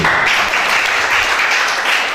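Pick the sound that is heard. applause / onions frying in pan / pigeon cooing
applause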